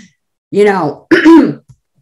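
Two short throat-clearing coughs close to the microphone, one after the other with a brief pause between.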